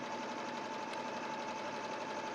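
A sewing machine stitches a seam with 1.5 seam allowance, running continuously as a steady close whirring hum for the whole stretch, with no one talking.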